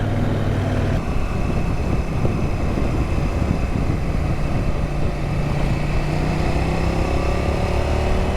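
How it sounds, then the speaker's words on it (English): A CFMoto 800NK motorcycle engine with stock exhaust runs steadily close by with a smooth, even rumble and no talking. "she's got a lovely sound to her as well. Stock exhaust, but sounding sweet as you like"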